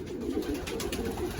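Pigeons cooing in a loft, a steady, throaty murmur of soft overlapping coos close by, with no voices.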